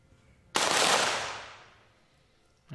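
A single sharp 25 m pistol shot at a women's shooting event, loud and close with a sudden crack and a reverberant tail that fades over about a second and a half.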